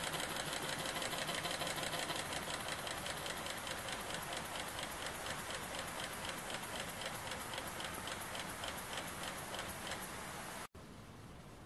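A small rotary valve model steam engine with a flywheel runs steadily, giving a fast, even mechanical chuffing and ticking rhythm up close, continuous and fairly loud until it cuts out near the end.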